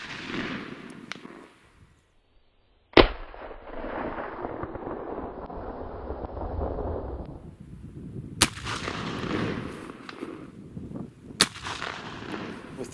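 P53 Enfield rifle-musket and P61 short rifle fire outdoors at a range. One sharp, loud report is followed by a long rumbling echo, then two more distant cracks, each trailing off into wind and background noise.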